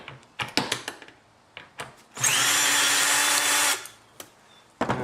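A power tool spins a 7mm socket while removing boots from a Ford F150 EcoBoost intercooler, one loud sustained whir of about a second and a half, framed by sharp clicks and knocks of handling parts.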